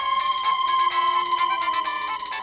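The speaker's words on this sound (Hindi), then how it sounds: "ये तो मेरी रिंगटोन है।" A phone ringtone plays as a bright electronic melody that repeats in quick rhythmic bursts, steady and moderately loud with no talking over it.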